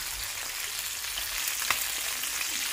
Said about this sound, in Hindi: अभी तो कम ऑयल में यहाँ पर फ्राई कर रहे हैं